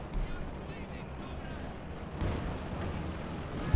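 A tank's main gun fires in the real-time strategy game Company of Heroes 2, a dull boom and a second heavier blast amid a dense wash of battlefield noise under continuous commentary.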